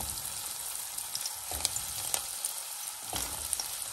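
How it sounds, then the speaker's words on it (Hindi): Gobhi manchurian balls deep-fry in hot oil with a continuous close sizzle and crackle, and a few soft stirring clinks; no voices. "तो अब मैं इन बॉलों को अच्छे से फ्राई कर लेती हूँ।"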